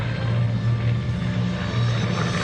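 Steady, loud propeller engine drone of a North American B-25 Mitchell bomber at the 2019 New York International Air Show, heard from on board as a continuous pulsing roar without talk.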